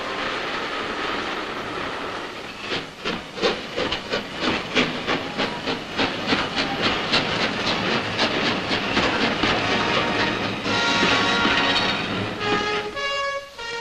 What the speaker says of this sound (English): Still steam-hauled by magnificent engines are most of the crack trains of the western region.